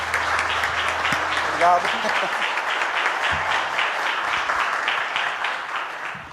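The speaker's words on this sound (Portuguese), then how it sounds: "vamos aplaudir bem forte a nosso Pai" A church congregation applauds loudly and steadily throughout, dense clapping filling the room while a voice briefly speaks over it.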